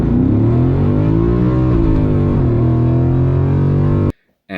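A 2019 Mustang GT running on E85 roars hard down the dragstrip, its engine pitch climbing steadily through the gears under load before cutting off abruptly near the end.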